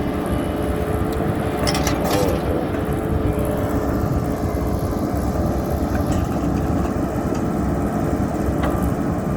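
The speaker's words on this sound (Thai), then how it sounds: "ตอนนี้กำลังเกาสโลปอยู่นะครับ เกาอยู่ท่านผู้ชม กับรถคันยาวเนาะ" An SK120-3 excavator scrapes a slope on a farm job, its engine giving a steady, loud, close mechanical drone that runs unbroken throughout, with a few faint scraping bursts on top.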